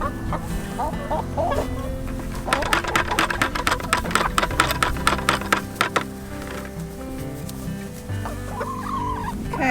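Farm chickens cluck close by in a steady, busy chorus, with a burst of rapid tapping and clucking through the middle and a rising cackle near the end.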